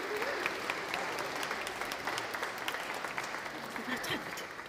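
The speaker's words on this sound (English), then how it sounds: "Should we give him a clap?" Right after a baptism, a church congregation claps steadily in a sustained, even round of applause, with a faint murmur of voices mixed into it.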